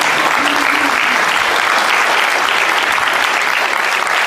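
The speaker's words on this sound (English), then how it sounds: "Let's clap it up for each other on that." Conference audience at a talk on AI breaking into loud, thick applause, a continuous wash of many hands clapping close and strong at a constant level from start to finish.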